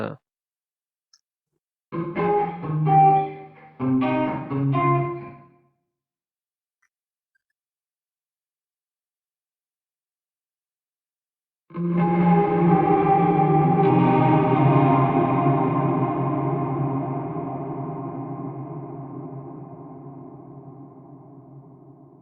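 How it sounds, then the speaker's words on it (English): A few short processed tones ring out, then after a pause a dense reverberant wash from the Valhalla reverb plugin swells and slowly decays over many seconds. "you can use the Valhalla reverb plugin and you can use it for different purposes"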